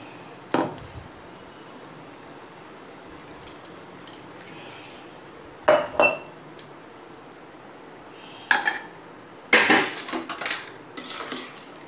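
A spoon scraping and clinking against a cooking pot while potato appalam kootu is stirred: a few sharp metallic knocks and clatters in short bursts, separated by quiet stretches, with no talking.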